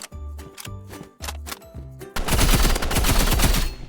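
Rapid automatic gunfire from a machine gun in the Roblox game Rivals, loud continuous bursts that start in short chopped volleys and then become a dense sustained rattle.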